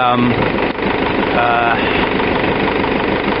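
An Isuzu 4JX1 diesel engine idles with a rough, uneven rumble after injector sleeve repair, running steadily close by with a slightly rocky rhythm, without smoke.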